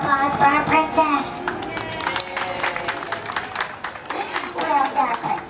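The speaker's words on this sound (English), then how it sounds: "And a big round of applause for our princess." Audience applause and clapping at a princess character meet-and-greet at Disney's Hollywood Studios, a lively crowd of hands mixed with children's voices and chatter throughout.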